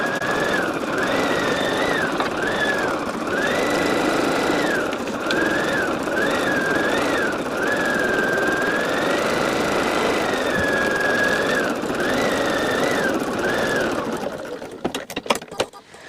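Embroidery machine stitching an in-the-hoop project runs steadily and loudly up close, its whirring motor pitch rising and falling with each stitch run, then stopping near the end with a few clicks.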